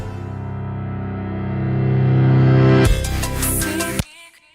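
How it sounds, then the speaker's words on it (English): Metal dragged across concrete, pitched up and processed with saturation and a wobbling LFO, swells as a sustained, harmonically rich drone before a harsh noisy burst and an abrupt cutoff into a fading tail. "This is the sound of metal being dragged on concrete."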